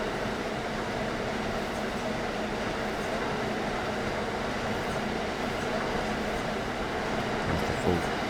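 An American push-pull passenger train runs steadily in the Train Sim World 5 game, giving a continuous, even rumble and roar of wheels and engine throughout, with a faint click near the end.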